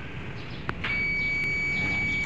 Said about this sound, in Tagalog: So lagyan natin ng buzzer yung thermostat.